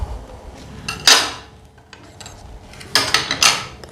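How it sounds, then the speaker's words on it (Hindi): Pots and dishes are handled while chicken tikka is prepared at home, with clinks and scrapes of metal utensils coming in two close bursts separated by a quieter pause. "सबसे पहले एक बड़ा सा बर्तन लेना, उसमें ये पीस हमने रखने हैं।"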